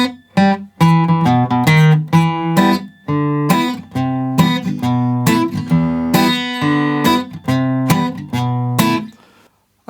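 Steel-string guitar in standard tuning picks the intro of a song, a piece with a thumbed bass line under plucked melody notes, played alone at a steady rhythm and ringing out at the end.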